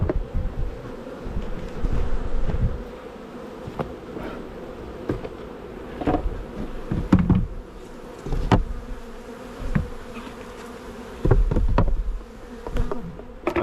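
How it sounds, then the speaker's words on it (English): A honeybee swarm is being shifted into a hive box: a dense, close buzz of many bees with irregular surges and brief louder passes of single insects near the microphone, and no speech. "That is how simple it is to transfer a swarm into some equipment."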